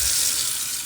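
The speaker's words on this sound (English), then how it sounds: "going into the RV and running the sink for a while to fill my gray tank with used water" Water runs from the sink tap inside an RV, filling the gray tank, a steady soft hiss of flowing water that continues evenly without pauses or voices.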